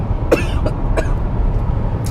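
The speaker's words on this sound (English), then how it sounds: "the cough is real today." Three or four short, rough coughs spaced out over a couple of seconds, close to the listener, against a steady low background rumble.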